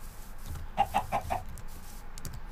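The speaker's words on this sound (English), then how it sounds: "chickens, which we don't need." Minecraft chickens give a quick run of four or five soft clucks, fairly close, over faint game ambience without speech.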